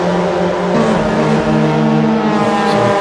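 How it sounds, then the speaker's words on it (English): Mazda MX5 Cup race cars in a sim racing game at Lime Rock Park give off a continuous loud engine drone with overlapping revving tones from several cars, steady throughout. "Hopefully you can hear the cars now."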